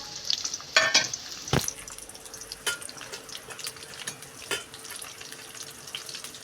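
Two onions cut lengthwise crackle and sizzle in hot oil, with a few sharp clatters of a utensil early on and then a steady, moderate frying hiss.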